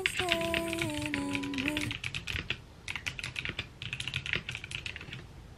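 Fast, clicky typing on a new Epomaker computer keyboard, close and crisp with irregular bursts of keystrokes, while a short tonal jingle or hum plays over the first two seconds.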